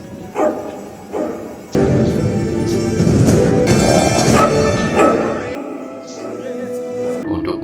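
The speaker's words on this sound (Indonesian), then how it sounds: "Bolt pun akhirnya menggonggong ke arah ventilasi." Dog Bolt from the animated film Bolt barking repeatedly toward a vent, loud sharp barks over a dense, noisy backdrop of scoring and effects.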